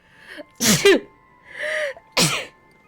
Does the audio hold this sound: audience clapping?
no